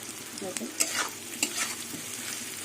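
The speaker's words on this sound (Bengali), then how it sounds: "আমি কিন্তু ভাজাতে কোনো ঢাকা দিয়ে ভাজছি না কেন আলুগুলো একদম পাতলা পাতলা করে কাটা আছে" Thinly sliced potatoes fry uncovered in a pan with onions, sizzling steadily at close range as a spatula scrapes and stirs them a few times.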